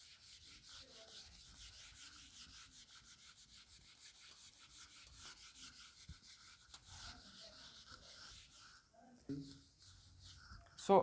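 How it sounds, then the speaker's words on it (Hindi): A duster rubbing a chalkboard clean in a classroom, a soft, steady scrubbing sound at close range that runs for most of the stretch, followed by a few louder knocks at the end. "इसको रब कर देते हैं हम।"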